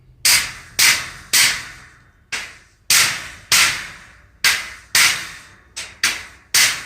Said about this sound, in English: this old metal hammer is damaging the paint